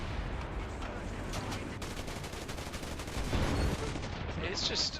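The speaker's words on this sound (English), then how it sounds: "The Panzer IV pumps a heat round right into him" Tank cannon fire and explosions from a War Thunder battle, including a Panzer IV firing a HEAT round, as several sharp booms and a dense crackle of gunfire run under constant battle noise.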